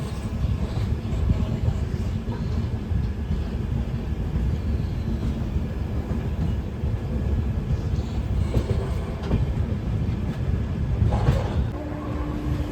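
A passenger train rolling toward Deen Dayal Upadhyaya Junction heard from inside the coach, a continuous loud low rumble with rattling and faint clanks, steady throughout without talk.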